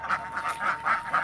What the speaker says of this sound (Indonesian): ada itik segala tuh.